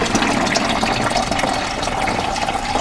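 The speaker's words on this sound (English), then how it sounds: "I'm gonna put water in the back here" Water pours steadily into the rear reservoir of a Hamilton Beach FlexBrew Trio 2-way coffee maker, a loud continuous splashing fill heard close up with no talking.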